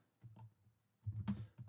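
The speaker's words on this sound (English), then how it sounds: "oops, typing is hard" Soft, close computer keyboard typing comes as a few scattered keystrokes followed by a quicker cluster of taps, quiet and with no talking.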